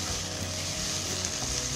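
Spices and turmeric sizzling as they roast in hot oil for a Maharashtrian spinach curry, a steady close-up frying hiss with no voices over it.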